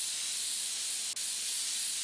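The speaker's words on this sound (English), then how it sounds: "Blowing out the dust all into my room." Compressed air blows dust out of an open computer case as a steady, close hiss that runs almost unbroken, with one brief dip partway through.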